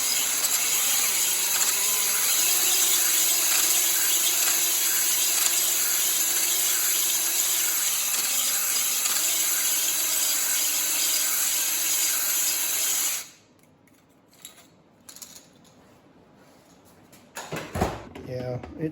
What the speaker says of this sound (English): Just gonna do a quick hone right here.